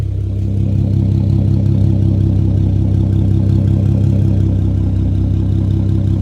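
Idle of a 2012 Ford Mustang with the 3.7 V6 and a muffler delete, a steady low rumble holding even throughout with no revving, close to the car and alone without voices.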